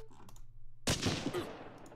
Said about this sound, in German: Schmeiser hat schon wieder das ganze Magazin leer geschossen